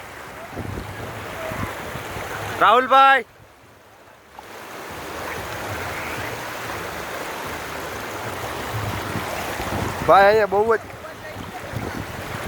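A high, fast-flowing river near Kamnath Mahadev temple by Mangrol gives a steady, moderate rush of water, broken twice by short bursts of a voice.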